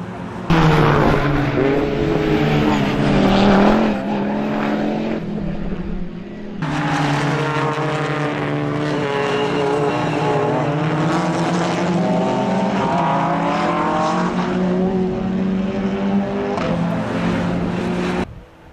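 Race cars dueling at speed at Colmar-Berg, a BMW against a Lamera, their engines roaring loud and close, rising and falling through the gears in sustained howls, with a brief dip partway through.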